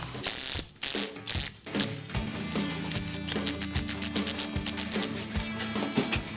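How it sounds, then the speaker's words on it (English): A thread tap is worked by hand into a shifter handle on a large off-road wrecker to fit a helicoil insert, producing close, rapid ratcheting clicks in a steady run after a few initial knocks, with no talk. "I'm just going to helicoil it. Just run this tap in."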